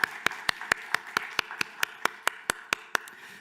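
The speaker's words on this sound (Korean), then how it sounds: "김현옥, 김진희 우리 박수로 축하합니다." Church congregation clapping in unison to celebrate birthdays during a Sunday service, about fifteen sharp, evenly spaced claps over a quiet room, moderately loud and close.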